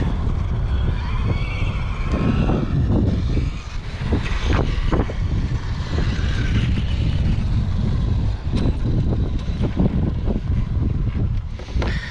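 A stock Traxxas XRT RC truck with speed gears runs flat out at around 62 mph, a loud continuous whining roar mixed with heavy wind buffeting on the microphone, rising and falling slightly as it passes, with no voices.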